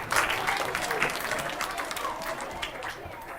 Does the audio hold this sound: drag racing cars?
no